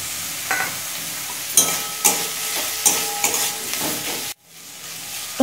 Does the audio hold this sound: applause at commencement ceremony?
no